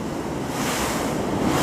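Sea waves surging against the shore in Santa Ana, Cagayan, a steady, loud roar of surf mixed with wind buffeting the microphone, continuous and close, with no voices.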